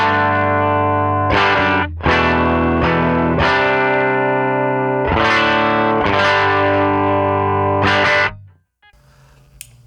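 Loud electric guitar chords on a clean amp tone modeled on a Fender Princeton Reverb, from a Line 6 Pod Express, are strummed and left ringing, changing several times before cutting off into near silence.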